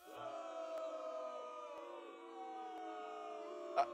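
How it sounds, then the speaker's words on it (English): A large arena crowd boos in the NHL 23 hockey video game, a sustained droning jeer at steady volume with a brief sharp knock near the end. "Stop booing me."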